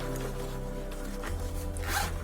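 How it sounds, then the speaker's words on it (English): Big zipper on an Alienware Vindicator 2.0 15-inch backpack being pulled open, a close, continuous rasping zip running about two seconds with a brief surge near the end. "you have a big zip over here"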